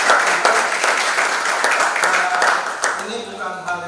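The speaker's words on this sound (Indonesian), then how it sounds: "Kita tepuk tangan sekali lagi yang meriah." Lively audience applause follows an academic lecture on history, strong and dense before thinning out near the end as a voice begins speaking over the fading claps.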